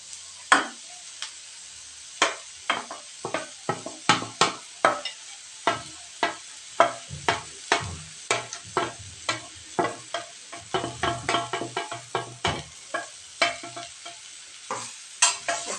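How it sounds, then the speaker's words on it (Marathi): Mashed eggplant frying in a pan for bharit, with a bed of sizzling oil under a steady run of sharp scraping stir strokes from a spatula against the pan, close and fairly loud, with no talking. "छान असं फ्राय होत आहे"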